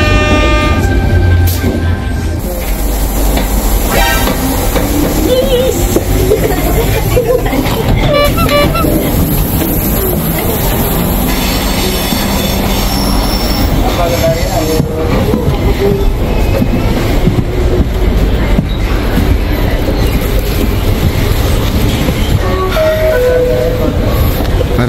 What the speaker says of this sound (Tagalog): Dito na yung train.